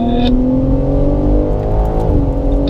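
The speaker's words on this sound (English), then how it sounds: "we're all going back to power in 3, 2, 1, go, go, go, full power" Track-day cars accelerate hard on the Circuit of the Americas, engines rising in pitch together with a loud, close, steady rasp and an audible gear change midway.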